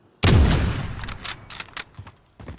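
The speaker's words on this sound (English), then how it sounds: "Keep shooting at him." Gunfire in Call of Duty Warzone: a loud close burst opens, then a rapid string of sharper shots and cracks follows, fading somewhat toward the end, with no talking.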